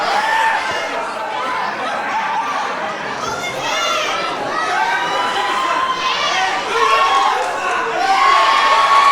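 A wrestling crowd at an APW Retro Rumble show cheering and shouting for Karl Parker, a lively mix of yells, whoops and chatter including young voices, building slightly louder toward the end.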